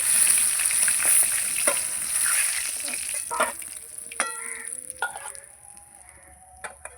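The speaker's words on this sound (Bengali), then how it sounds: "এবার মাছগুলো ভেজে নেব" Fish pieces sizzling steadily in hot oil in a home kitchen pan, a dense close crackle that starts loud and eases slightly, with a few clinks and scrapes from turning the fish.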